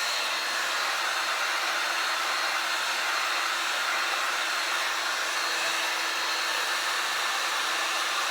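Two hair dryers blow a steady, loud, unbroken whoosh over freshly applied Annie Sloan chalk paint, with no pauses or change in pitch.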